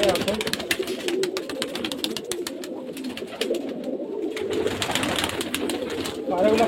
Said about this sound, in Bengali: সব মুর্শিদাবাদের গিরিবাজ লাইনে পায়রা আছে, খুব ভালো ভালো পায়রা